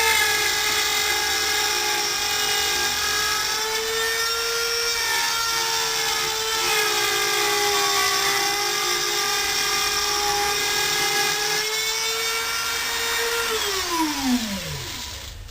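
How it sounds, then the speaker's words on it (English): A Dremel rotary tool routing a 4-inch sound hole in a guitar soundboard gives a loud, steady high whine with a grinding rasp, dropping in pitch as the bit breaks through near the end, with no talking. "we can set our Dremel rotor here for the 4 inches and rotor the sound hole"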